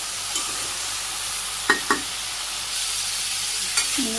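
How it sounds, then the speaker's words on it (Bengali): Vegetable stems cook in a pan with salt, turmeric and chili while being stirred, giving a steady low sizzle with a couple of brief scraping strokes and a soft clink near the end. "এখন আবার একটু 2 মিনিট নাড়াচাড়া করে নিই।"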